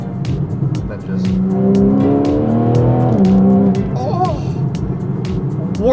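A Porsche 911 accelerates hard along a driving road, its engine note climbing loud and close through rising gears with a brief shift dip, ending in a couple of higher revving sweeps.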